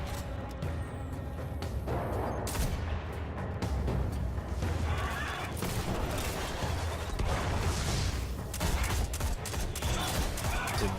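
A high-capacity rifle in the video game Destiny fires in dense, sustained bursts alongside explosions, a loud, continuous barrage of shots across the whole stretch.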